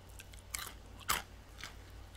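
A few crisp crunchy bites into a Burger King hand-breaded spicy crispy chicken sandwich, close up and fairly quiet, with short crackling bursts and pauses between them and no talking.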